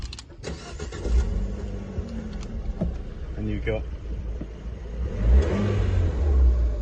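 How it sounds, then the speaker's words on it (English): Fiat 124 Spider with the 1.4 MultiAir engine, manual clutch, revving with a subtle exhaust note that swells near the end, while someone talks over it. "a nice, subtle exhaust note"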